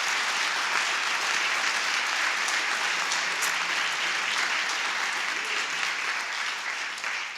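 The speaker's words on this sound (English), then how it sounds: "I'd like to give Mr. Abramoff and everybody here in this room a big round of applause." Audience applause for former lobbyist Jack Abramoff at a speaking event at Peace University in Raleigh, a steady, dense roomful of clapping that holds at even loudness throughout.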